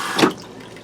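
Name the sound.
water flowing into RV toilet after stepping on pedal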